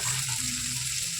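Onion and lentils sauté in a hot pan, giving a steady, close sizzle that holds evenly throughout with no voices.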